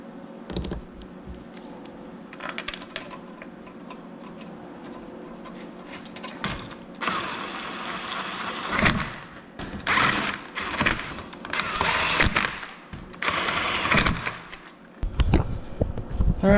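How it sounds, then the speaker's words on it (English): A wheel is mounted back onto a W202 Mercedes C43 AMG after a front wheel bearing re-seal, with metallic clinks, rattles and ratcheting clicks coming in uneven bursts, busier and louder in the second half, close by and without talk. "Okay, now I get to put the wheel back on."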